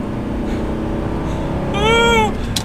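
Audi R8 engine during rev-matched downshifts: a steady engine drone, then a short rising rev blip and quick fall, heard from inside the car.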